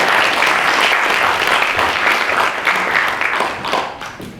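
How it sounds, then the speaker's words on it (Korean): Sustained audience applause fills a hall as People's Party leader Ahn Cheol-soo is welcomed at a youth forum event, dense and steady before tapering slightly toward the end. "큰 박수로 환영해 주시기 바랍니다."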